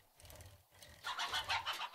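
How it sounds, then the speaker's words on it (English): A chicken in the video game 7 Days To Die, with soft low clucking at first and then louder, brighter clucks near the end, heard alone and fairly faint. "There's another chicken."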